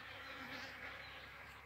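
Steady, soft buzzing of many bees close by, a continuous droning hum with no talking.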